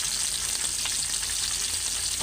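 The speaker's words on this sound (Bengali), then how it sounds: "মাছগুলি আমি কড়া করে ভাইজা নিব এখন" Spiced fish frying crisp in a pan gives off a loud, continuous close-up sizzle with small crackles, steady throughout and with no voices.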